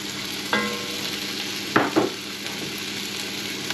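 Peeled shallots drop into a hot pan with bacon for beef bourguignon, giving a soft steady sizzle with a couple of brief stirring scrapes and clatters, fairly close.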